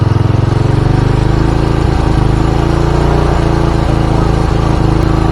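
Honda Supra motorcycle engine running close and loud, a steady buzzing throb held at a high speed with small wavers in pitch and no break throughout.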